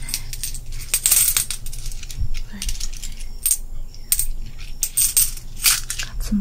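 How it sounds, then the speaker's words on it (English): Gold coins clink and jingle as they are handled, in a close, bright series of irregular metallic clinks and scrapes, loud and without talk. "Some gold coins over here."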